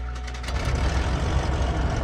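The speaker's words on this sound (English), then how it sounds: "we have a good left engine start" An aircraft engine in a flight simulator, the left engine of a Cessna 414A Chancellor, rumbles to life, a low steady roar building in the first half second and then holding loud and continuous.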